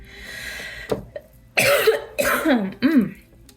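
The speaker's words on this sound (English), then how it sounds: "Confirmation cough." Several harsh coughs come close together, close and loud, after a quieter throat sound.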